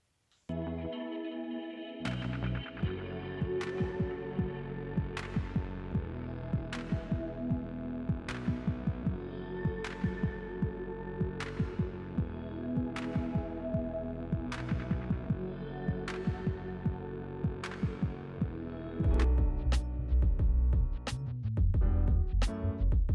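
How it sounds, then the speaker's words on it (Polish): A power drill whines steadily for a long stretch while boring three holes for pipe couplings, with regular sharp clicks throughout and a rougher burst near the end; no voices. "I wiercimy trzy otwory pod mufy"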